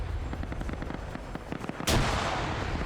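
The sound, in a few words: grenade explosions in a video game firefight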